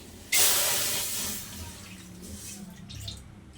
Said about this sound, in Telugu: ఇప్పుడు దీంట్లో మనం తగినంత వాటర్ పోసుకోవాలి